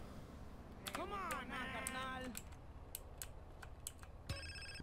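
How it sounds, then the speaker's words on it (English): A phone rings in GTA San Andreas Definitive Edition, a repeated electronic ringtone of rising and falling chirps that holds for about a second and a half. It returns briefly near the end over low game ambience. "Oh, another phone call."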